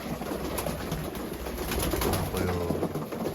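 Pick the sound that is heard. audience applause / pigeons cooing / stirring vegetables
pigeons cooing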